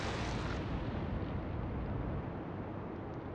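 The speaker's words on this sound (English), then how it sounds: "Okay, 3 more shots coming our way." Naval gunfire from the Atlantic Fleet warship game comes as a muffled, rolling boom that rumbles on steadily at low volume, with no speech.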